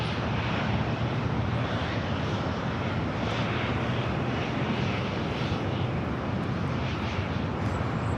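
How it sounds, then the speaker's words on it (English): A WestJet Boeing 737-800 jet roars on takeoff at LAX, a broad, steady rumble of engine noise that stays loud and dense throughout with some wind buffeting. "Next takeoff is WestJet 1511 taking off to Calgary on the 737-800."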